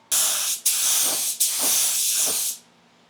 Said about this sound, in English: I've got some clear coat mixed up here, so let's go ahead and spray this.